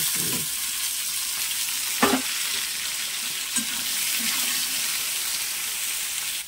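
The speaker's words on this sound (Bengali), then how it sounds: "এবার সেদ্ধ করে রাখা আলু আর কড়াইশুঁটিটা হালকা করে ভেজে নিচ্ছি" Boiled potatoes and green peas fry in a pan with a steady close hiss, while a few clinks of a spatula scraping and stirring break through.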